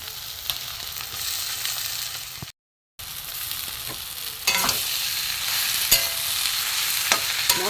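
Boiled potato frying with egg and spices in a pan for egg patties filling, a continuous close sizzle with sharp spatula scrapes and clacks, briefly cut out, then louder.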